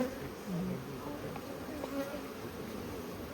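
Honey bees drone steadily inside a hive, a dense continuous buzz heard close up without pause throughout.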